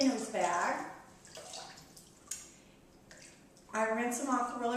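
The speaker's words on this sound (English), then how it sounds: "I rinse them off really, really good, and then I put them in a bowl of water" Soaked mung beans rinsed under running water: a soft, continuous splash and trickle that rises and falls, with a small drip or clunk midway, while a voice talks over much of it.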